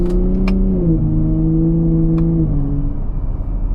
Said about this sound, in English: Nice downshifts too. Get that nice throttle blip